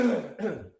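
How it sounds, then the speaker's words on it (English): A man coughs up phlegm in a quick double burst, close and fairly loud, with no talking over it. "still coughing up some stuff here"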